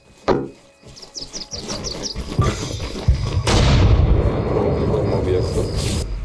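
Booming artillery shots and heavy rumbling explosions in the video game Arma Reforger, with a sharp early blast, a quick series of chirpy pops, and continuous low roar.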